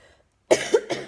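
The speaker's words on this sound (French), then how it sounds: "Pardon si je tousse" A woman coughs three times in quick succession, close and fairly loud, after a brief near-silent pause.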